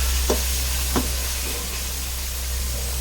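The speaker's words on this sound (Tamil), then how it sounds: "பிரியாணிக்கு வெங்காயம் நல்லா வதங்கணும்." Onions sautéing in a pan for Tenkasi mutton biryani give a steady, close sizzle, with two short stirring scrapes near the start and no talking.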